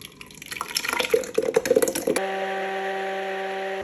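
Bombay tomato barbecue sauce is poured into a blender with a short run of close wet glugs and spatters, then a steady tonal blender hum takes over.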